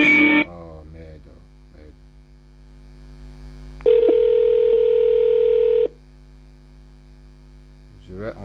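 Telephone dialing tones while placing a call: a short burst of keypad beeps, then a steady dial tone lasting about two seconds over a constant mains hum, with more brief tones at the end.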